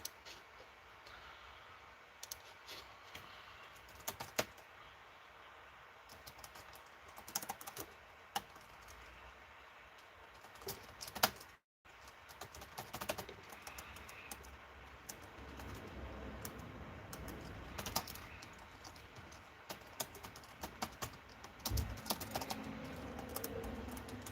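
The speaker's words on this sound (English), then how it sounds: "let me type out this question." Someone types steadily on a computer keyboard, quiet and close, with irregular bursts of key clicks and a brief pause partway through.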